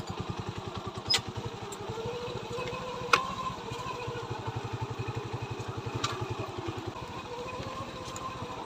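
A cheap everyday motorcycle idling close by, its single engine chugging in a steady fast putter throughout, with a few faint clicks and knocks over the running motor.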